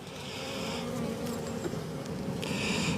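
Honey bees buzz around an open beehive during a hive inspection, a dense, steady drone close by with individual bees flying past the microphone.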